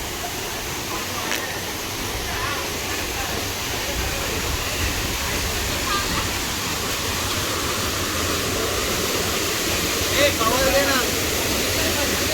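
A constant rushing roar of the Chander waterfall near Malvan, Konkan, fills the scene, loud and steady, with faint voices blending into the background.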